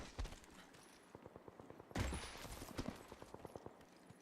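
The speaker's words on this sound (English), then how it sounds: "I hear gunshots." Distant gunfire in the video game Apex Legends sounds as rapid bursts of faint cracks and pops, with a louder flurry in the middle and scattered single shots trailing off, quiet and far away.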